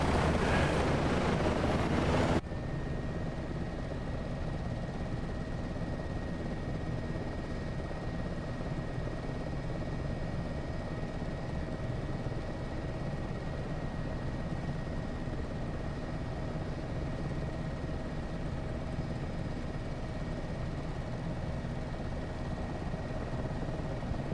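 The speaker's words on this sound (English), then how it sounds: "It's a helicopter." Steady, loud rotor and turbine drone of an AS365 N2 helicopter in a flight simulator game, holding evenly throughout after a brief louder burst at the start.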